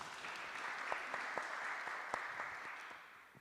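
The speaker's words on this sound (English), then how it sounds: "Please, a round of applause." Audience applause for guests at a PhD event panel in Gdansk: a sustained wash of clapping with a few sharper individual claps standing out, steady throughout and fading slightly at the end.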